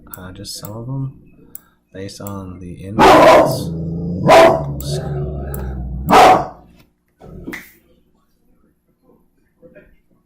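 A house dog barks in loud, sharp bursts, three strong barks spaced about a second apart, with someone talking briefly before them and a few fainter yips and sounds afterward.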